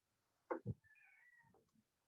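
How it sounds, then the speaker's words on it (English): A cat meows a few times close by, a short two-part call followed by a longer drawn-out whine, with no other sounds around it. "That's the sound of my hungry cat"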